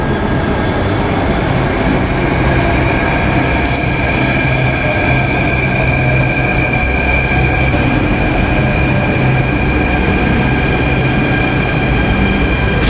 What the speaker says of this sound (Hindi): now I am waiting for my metro जो मुझे इंदरलोक लेके जाएगी